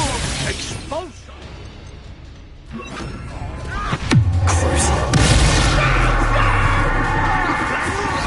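Expulso explosion spell in Hogwarts Legacy detonating amid chaotic combat, a sharp blast followed by a sustained loud rumbling roar, layered over other clashing spell effects and scattered crashes.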